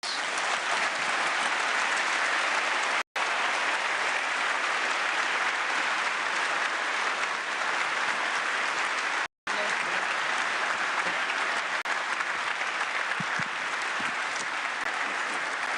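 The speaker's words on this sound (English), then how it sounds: "it deserves a round of applause indeed" Sustained, loud applause from a large audience of EU leaders and delegates after a speech, dense and continuous with two brief dropouts, ending without a pause.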